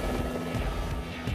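An RCMP police helicopter close by, its steady rotor and engine roar filling the whole moment with a dense, continuous drone and no pause.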